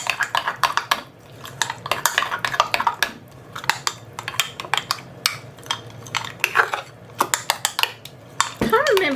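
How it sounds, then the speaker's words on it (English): Smash burger mince with salt is mixed in a bowl, bringing busy rapid clatter and scraping of a utensil against the bowl in quick irregular bursts, fairly close, with a brief voice near the end. "Let's give it a good mix"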